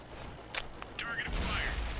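Tank cannon fire in World of Tanks on Xbox 360, a Tiger II battle on the Lakeside map: a sharp blast, then a heavier rumbling boom, with someone talking over the gunfire.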